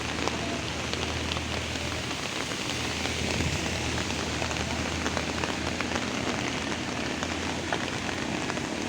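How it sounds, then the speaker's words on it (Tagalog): Heavy rain pours steadily near an overpass in General Trias during flooding, a dense, loud, continuous hiss of drops striking surfaces with no break. "Grabe yung ulan, nagsha-shower."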